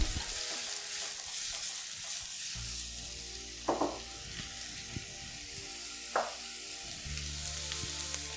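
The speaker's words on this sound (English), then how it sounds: "add in your onions and just get them going for a couple of minutes" Onions frying in a heated pot for a casserole, a steady broadband sizzle with a low hum beneath and two brief louder scrapes of stirring.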